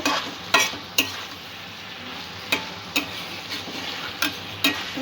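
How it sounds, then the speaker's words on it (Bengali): Okra and potato curry being stir-fried in a pan, a steady soft sizzle broken by sharp, intermittent scrapes and clacks of a spoon against the pan, close and alone without talk. "সবকিছু আবারও একটু ভালো করে মিক্স করে কষিয়ে নেব।"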